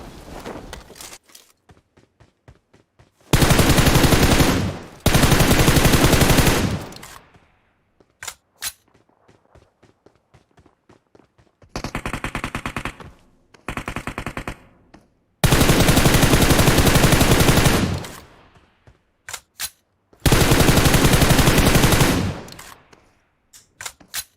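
An M4 rifle fires in PUBG Mobile: several long, loud fully automatic bursts separated by quiet gaps, scattered with single shots and short rapid strings.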